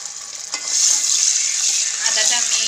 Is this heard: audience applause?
no